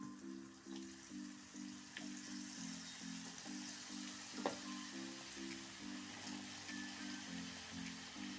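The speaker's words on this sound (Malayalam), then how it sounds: "നമുക്ക് ഇട്ട് കൊടുത്ത് വറുത്തെടുക്കാം" Papaya chips sizzle and crackle steadily in hot oil, a continuous close frying hiss with a low repeating hum underneath and no talking.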